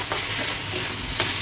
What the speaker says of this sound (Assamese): আৰু এতিয়া লৰাই দিম।